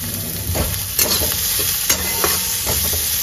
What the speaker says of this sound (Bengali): পেঁয়াজ ভাজা করার সময় আমি একটু নুন দিয়ে দিচ্ছি, তাহলে পেঁয়াজটা তাড়াতাড়ি ভাজা হয়ে যাবে